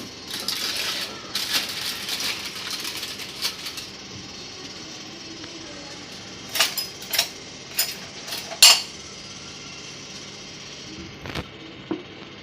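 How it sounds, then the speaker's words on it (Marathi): Crinkling and tearing of aluminium foil peeled off a steamed dish of bhapa doi, a series of sharp rustles and crackles close by, busier at first, then scattered louder crinkles, with no talk. "हा फॉईल पेपर काढू."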